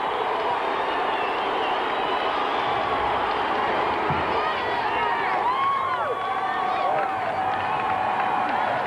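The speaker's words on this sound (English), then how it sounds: "Oh, the crowd loves it." A gymnastics arena crowd at the NCAA women's championships roars and cheers steadily after a beam dismount with a stuck landing, a continuous dense wash of voices, with a commentator talking over it.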